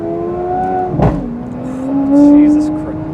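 A Lamborghini Aventador S Roadster V12 runs at a steady drone, a sharp loud crack or pop at about 2,500 RPM, then the engine rises in pitch as it revs, heard up close.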